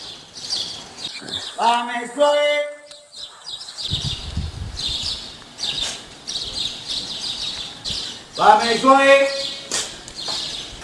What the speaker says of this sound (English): You can hear the birds again in the morning.